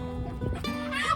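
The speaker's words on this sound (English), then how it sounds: "There's the pullets." Pullets, young chickens on a farm, give brief soft clucks and chirps close by in a quick burst lasting about a second.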